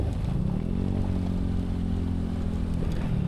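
Engine of a Suzuki Access 125 scooter ridden over a rough rural road, a steady mid-pitched drone that holds close and constant with faint clatter over it.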